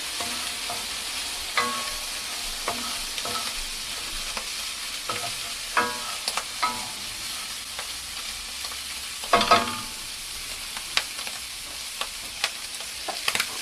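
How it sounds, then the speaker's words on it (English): Food sizzles in a hot pan while being stirred, with scraping and clacking bursts over a continuous frying hiss, close up. "We stir this around a little bit."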